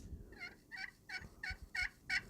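Traditional slate turkey call played to imitate a soft, lonely hen, six evenly spaced yelps rising in loudness, close and clear with a faint background murmur.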